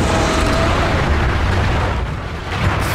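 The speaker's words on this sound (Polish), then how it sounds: "nie wiem, to wybucha wszystko" Dense, continuous explosion noise from the video game Far Cry 3, a heavy rumbling roar with booming low end that barely lets up.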